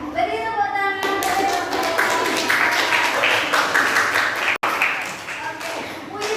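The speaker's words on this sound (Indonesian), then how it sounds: "Ya, beri tepuk tangan." Schoolchildren in an elementary classroom clapping after a poem recital, rapid close-up claps in a lively burst that follows a short stretch of a voice, with a brief dropout midway.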